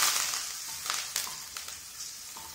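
Fennel seeds, cashews, green chilies and curry leaves frying in ghee, with a bright steady sizzle and small crackles and pops as they are stirred, close and continuous.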